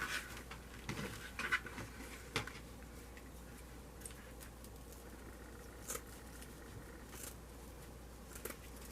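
Scissors cut wreath material for a Mardi Gras wreath project, quiet close snips and soft rustling clicks at irregular intervals in a still room.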